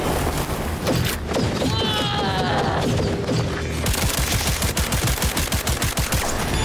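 Rapid gunfire in Cyberpunk 2077 rattles on in loud, dense bursts, pausing briefly while electronic whines and effects sweep through, then resumes as a fast, steady stream of close shots.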